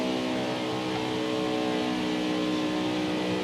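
A NASCAR race car engine in NASCAR Heat 5 on a victory lap, a steady loud droning roar held at constant pitch, close and uninterrupted.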